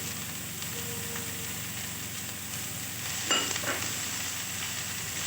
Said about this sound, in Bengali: আমি এগুলোকে উল্টো পাল্টা করে নাড়াচাড়া করি, ভালোভাবে কষিয়ে নিই।